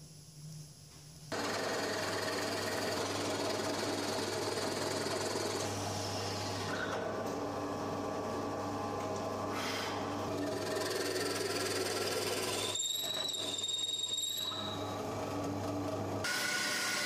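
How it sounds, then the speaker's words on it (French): A drill press tilted to an angle bores holes in wood for a baby cradle's rocker, giving a steady motor hum with a broad whirring drone that runs continuously from start to finish, with brief shifts in tone and no talking. "pour faire ça, j'ai utilisé la fonction d'orientation de ma perceuse à colonne"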